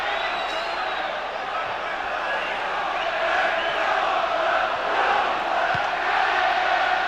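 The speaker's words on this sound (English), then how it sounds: "The crowd here at Riverside are trying to lift Middlesbrough" A large football crowd at the Riverside stadium in Middlesbrough roars and chants in a steady, reverberant wash, a dense distant mass of voices during a 1996/97 League Cup semi-final.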